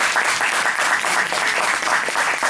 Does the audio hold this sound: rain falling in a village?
no